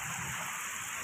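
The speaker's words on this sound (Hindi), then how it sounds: "बाहर इतनी ठंड हो रही है और बारिश पड़ रही है झाड़ियों के साथ" Heavy rain driven by strong wind during a storm with hail, a dense, steady roaring wash close by with no break.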